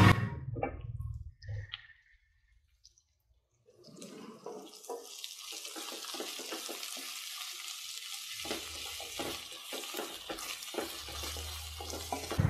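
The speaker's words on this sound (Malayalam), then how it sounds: "ഇനി നമുക്ക് ഇതിലേക്ക് കൊച്ചുള്ളി ചതച്ചത് ഇട്ട് കൊടുക്കാം." Crushed shallots frying in a pan for Kerala-style prawn roast: a low hiss and crackle builds after a quiet start, broken by clattering stirring and scraping, with steady sizzle to the end.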